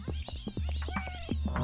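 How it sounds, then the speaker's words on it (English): A cat in a video game meows several times in short, close calls, with a steady electronic music bed underneath. "Oh, I hear a cat."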